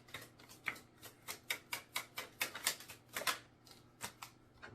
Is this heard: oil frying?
no